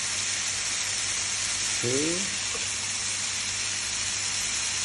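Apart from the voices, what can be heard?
bacon sizzling as it cooks for burgers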